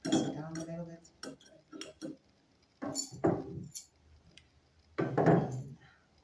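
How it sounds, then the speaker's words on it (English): A knife presses pine needles down into a glass jar with scattered clinks and woody rustling scrapes in a few short bursts, close up, with quiet gaps between them. "So I'm going to use my knife just to press it down a little bit."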